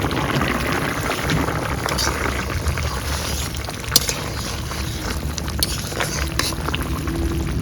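A pot of hilsa fish head and Malabar spinach broth boils steadily, a dense continuous bubbling roar close by, broken by a few sharp clicks and knocks.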